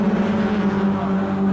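A Renault Clio Cup race car in the Elf Clio Cup 2000 series at Thruxton, with a loud, steady engine drone holding a strong even pitch as it passes close by.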